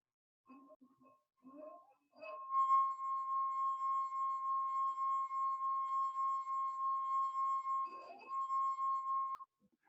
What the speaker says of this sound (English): My finger is going to create friction with the rim. It's going to stick and release, stick and release.